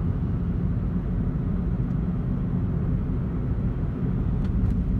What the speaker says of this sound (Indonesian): Mesin ini halus dan raungannya cukup premium dibanding mesin 1200cc milik Astra